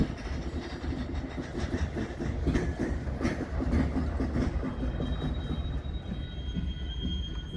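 A BNSF unit train rolls along railway tracks with a steady, close, heavy rumble and a rhythmic clickety-clack of wheels that continues unbroken throughout, with no voices.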